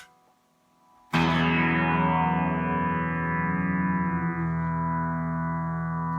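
A single loud electric guitar chord rings out after a brief quiet moment, its harmonics bent by an effects pedal, shimmering and wavering as it slowly sustains and fades.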